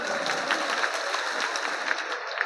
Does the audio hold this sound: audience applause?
yes